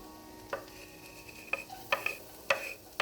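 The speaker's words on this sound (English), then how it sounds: "Oh, you can hear that sear." Garlic sears in a hot pan beside crispy steak and eggs, giving a soft steady sizzle broken by a few clinks and scrapes of stirring, close and fairly quiet.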